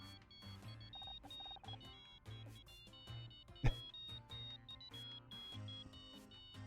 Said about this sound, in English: I think that's my phone.